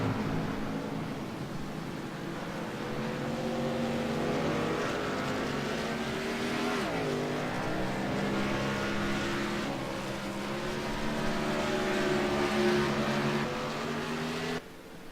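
Race car engines in the iRacing sim, during a World Cup qualifier, hum in a steady layered drone, with one pitch sweep partway through as a car passes or shifts. The sound is continuous and moderately loud, with no talk.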